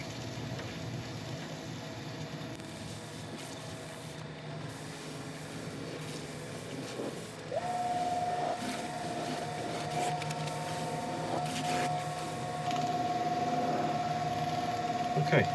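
Wood lathe spinning a burl while a cloth buffs in a shellac and linseed oil finish, a steady mechanical hum and whir with a rising tone as the speed builds partway through.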